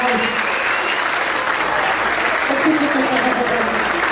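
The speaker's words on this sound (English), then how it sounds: "So big round of applause" Wedding guests at a reception give the couple a big round of applause after a toast, loud, close, sustained clapping from a full room with scattered cheers mixed in.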